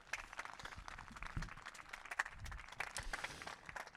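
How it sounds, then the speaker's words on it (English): A crowd applauds at a high school boys' lacrosse game in Nashua, with dense, steady clapping heard from a distance across the field. "How about another round of applause for Taylor Munson and for Bill Munson?"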